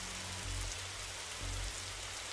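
Steady rain falls in the Darkside Detective video game, a dense, even hiss of drops on surfaces that carries on unbroken over a faint low hum.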